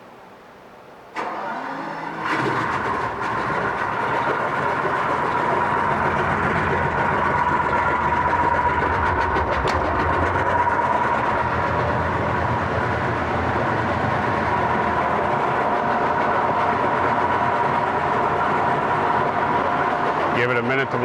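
A 2005 Yamaha 250hp VMAX HPDI outboard boat motor cranks and catches, then idles steadily and loudly with a constant droning tone throughout.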